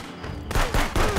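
Gunfire in the video game Contraband Police as a headshot lands: two or three loud, sharp game gunshot blasts in quick succession, close and booming, with no talk over them.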